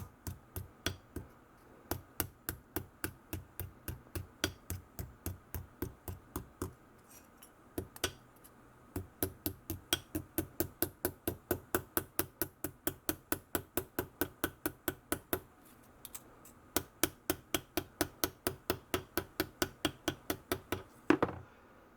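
Small hammer striking tin sheet on a small Harbor Freight anvil, a long run of rapid, evenly spaced metallic taps with a few brief pauses between bursts, close and fairly quiet.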